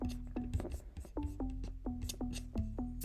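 A plucked synth bass plays in a recreated instrumental of a K-pop song. Short, punchy notes with a quick downward pitch glide repeat in a steady groove over a low thumping beat.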